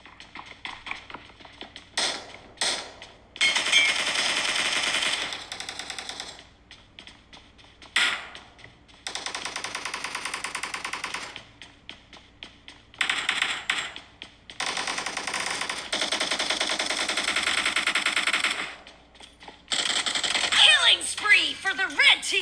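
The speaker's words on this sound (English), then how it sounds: "let's just take a listen to the speakers themselves and you can hear all those gunfires and shots" PUBG video game gunfire played through iPhone 13 Pro Max speakers, with bursts of rapid shots and clicks that come and go between quieter gaps, some of them fairly loud.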